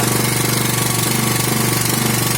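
Propane-fuelled portable petrol generator running steadily under a 2 kW load, a loud continuous droning engine with a rapid knocking pulse throughout and no voices.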